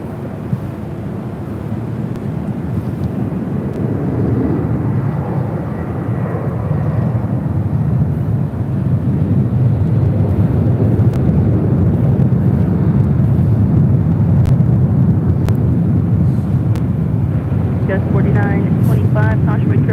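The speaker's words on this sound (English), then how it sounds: "This is Skylease Cargo 4873 taking off to Shaman on a 747-400 freighter." A Skylease Cargo Boeing 747-400 freighter taking off at LAX, a broad steady jet roar building and holding loud throughout, with wind buffeting the microphone and voices talking over it.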